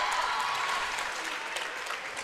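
Spectators at a high school volleyball match, Cordova versus Corner, clap in a steady patter of applause that carries through the gym, with no voices over it.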